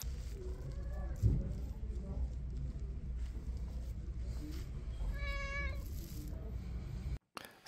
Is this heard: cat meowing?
yes